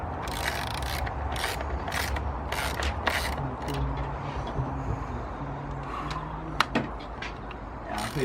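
Fasteners are loosened on a Mini JCW during a cover install, with repeated mechanical ratcheting clicks in short bursts over a steady rumbling background, close up and with no talk.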